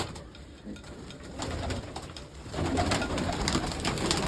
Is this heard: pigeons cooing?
yes